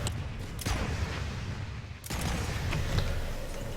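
PlanetSide 2 MAX with both arm weapons firing in the video game, a dense rumbling barrage of rapid shots that pauses briefly twice with sharp reports, loud and continuous, no voices.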